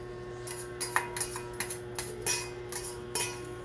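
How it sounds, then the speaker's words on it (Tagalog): Metal utensil scraping and tapping in a pan as egg is stirred into sautéed bitter gourd (ampalaya), a series of light irregular clinks and scrapes at close range over a steady low hum. "Haluin din natin. Para malagyan lahat yung ampalaya ng itlog."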